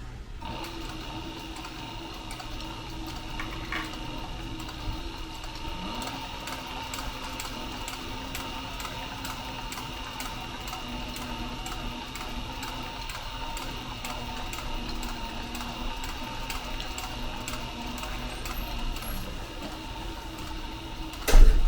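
A sewing machine stitches the base of a fanny pack, running in a steady fast mechanical ticking hum for the whole stretch at moderate level, ending with a brief louder clunk.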